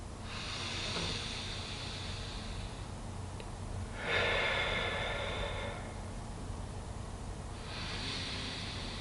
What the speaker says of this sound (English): taking a few deep, relaxing breaths